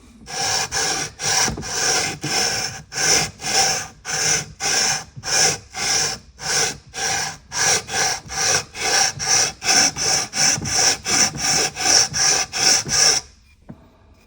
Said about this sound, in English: So the ones that are high are going to get sanded off first.